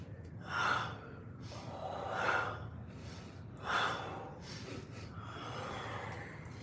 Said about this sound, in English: Breathe. 3, 2, 1. Inhale.